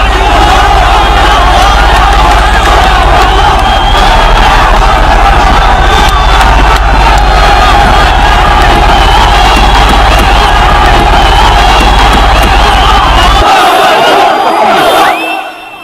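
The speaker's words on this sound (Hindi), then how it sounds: "जो भीड़ आप देख रहे हैं गाजा में" A large crowd in Gaza packs around a vehicle carrying hostages, producing loud, continuous shouting, cheering and chanting that fills the scene before cutting off abruptly near the end.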